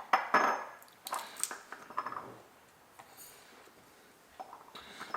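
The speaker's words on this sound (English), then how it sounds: "let me get these peppers in here" Hot peppers drop through a funnel into a glass sauce bottle: scattered close clinks and light taps of glass, irregular and fairly quiet, with no talking.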